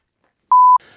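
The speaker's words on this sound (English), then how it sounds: "I put those beeps in there to signify the transition between the clips" A single short electronic beep tone marking a cut between clips, steady and clean, lasting about a quarter second, followed by faint background noise.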